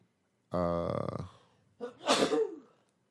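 A single loud sneeze bursts out nearby after a brief voiced sound, followed by quiet.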